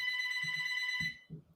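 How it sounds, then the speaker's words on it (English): A telephone rings upstairs in a house with a steady electronic ring tone, fairly loud, while low muffled thumps and knocks sound nearby before the ringing stops. "So I don't answer the phone. That's the phone's upstairs,"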